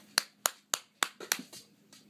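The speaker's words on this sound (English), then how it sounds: "Clap, clap, clap." A child's hands clap a handful of times, sharp and close, in an uneven rhythm that quickens near the end. Two last claps come softer and quicker.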